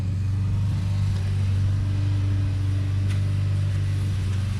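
A blower clears excess sand off freshly sanded pavers, its motor putting out a loud, steady, low droning hum that stays constant throughout with no pauses.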